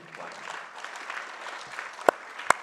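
Applause from an audience welcoming a speaker to the stage at a logistics and transport association launch event, moderate scattered clapping in a hall with two sharp louder claps near the end.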